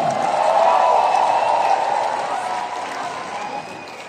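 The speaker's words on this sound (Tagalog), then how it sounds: "Isang malakas na palakpak naman dyan!" Audience applause at a political rally rises in a broad wash of clapping with a faint murmur of crowd voices, loud at first and slowly fading toward the end.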